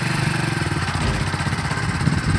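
Small motorcycle engine running steadily at moderate volume as a first-time learner rides and changes gears, a continuous mid-pitched drone with slight clatter and no speech.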